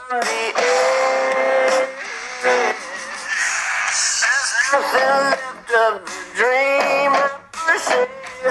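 A Xiaomi Mi Max 3 phone's main speaker playing music with a singing voice, fuller than a tiny tweeter, steady and fairly loud with brief dips.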